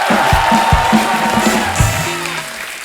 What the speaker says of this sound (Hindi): जोरदार तालियां बस्सी और रणबीर भाई के लिए।